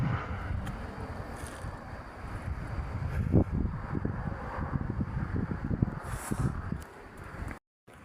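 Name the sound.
wind blowing in Joinville cemetery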